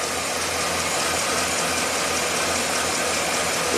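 2009 Chevy 3500HD diesel engine at high mileage running at a steady idle, with a loud, dense, even clatter heard close up and no talking.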